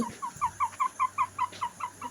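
A turkey gives a rapid series of about ten evenly spaced gobbling clucks, close and clear, with a faint low hum underneath.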